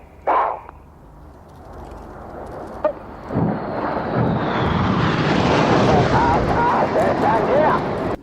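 A display jet flies a braking manoeuvre with smoke on, its engine roar building from a distant whine into a loud, sustained rushing drone, while people talk excitedly over it.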